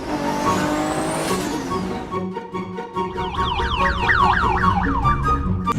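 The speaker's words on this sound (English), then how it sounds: "See, even on idle, it's so loud, I can't even hear like the passenger next to me." A Lamborghini Aventador S engine idles close by, deep and loud with a throbbing low rumble, joined partway through by a rising and falling warbling tone.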